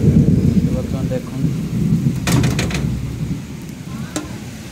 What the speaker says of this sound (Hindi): बिजु घड़घड़ी सहित वर्षा देखनी केमी एपटे